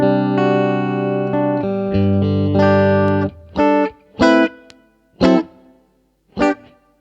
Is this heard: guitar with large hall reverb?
yes